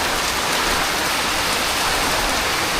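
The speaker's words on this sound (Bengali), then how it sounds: "ঘরের চালে কির পরিমাণ পানি পড়তেছে" Heavy storm rain pounding a house roof, a dense, loud, unbroken hiss of drumming water with no voices.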